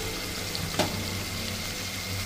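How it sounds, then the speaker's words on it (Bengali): Water poured into river fish frying in mustard oil in a pan, a steady hissing sizzle with a brief sharp splash near the start, close and unbroken. "জলটা বেশি করে দিয়ে দিচ্ছি।"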